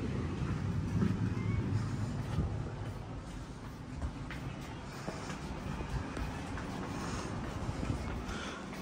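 Inside a Tegal Bahari business class train car, a steady low rumble with rattling and faint clanks runs throughout, moderately loud and close, with no clear talk.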